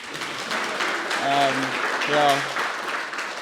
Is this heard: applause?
yes